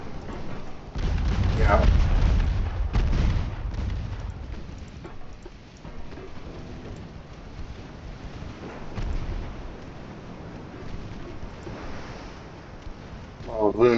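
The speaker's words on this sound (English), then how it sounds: "Ohio, shoot your main guns to the Braunschweig" Battleship main guns firing in Ultimate Admiral Dreadnoughts, a naval game set in the Spanish-American War: deep heavy booms and a rumbling roar early, then fainter distant blasts, with a voice speaking briefly.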